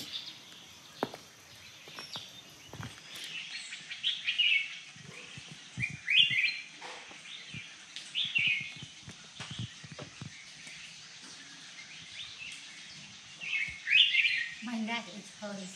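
Birds chirp and tweet overhead in Chiang Mai, with scattered bright calls repeating against a quiet outdoor background and some faint clatter and noise in between.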